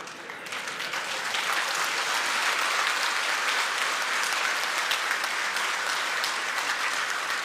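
A crowd at a political rally claps loudly and continuously for several seconds, a dense and sustained burst of applause with no voices on top.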